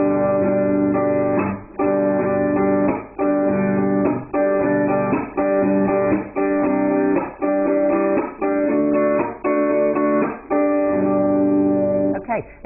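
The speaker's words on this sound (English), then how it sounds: "this strumming pattern is a downstroke, an upstroke, a chop" Strummed guitar chords repeat in a steady rhythm, each cycle cut by a short muted percussive chop, played close and clear with no talking.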